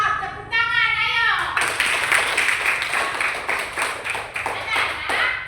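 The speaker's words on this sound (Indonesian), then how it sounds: "Tepuk tangan, ayo." Schoolchildren in a classroom clap their hands together after a brief sung or spoken tone, rapid bright claps filling the room for several seconds, near and fairly loud.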